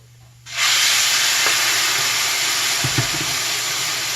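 Tomato sauce poured into frying rice for Mexican rice sets off a sudden loud, steady sizzle that holds strong throughout, with a few faint clinks partway through.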